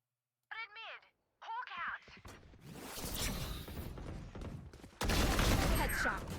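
Gunfire in a Valorant match sounds as bursts of rapid shots mixed with whooshing game effects, fairly loud and dense after a short start with voices speaking.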